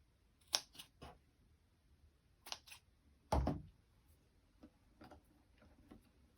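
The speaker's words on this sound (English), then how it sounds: "Cut off another little piece of rope." Scissors snip through a small piece of rope for a braided no-sew leggings project, making faint, crisp clicks in short scattered bursts with quiet pauses between cuts.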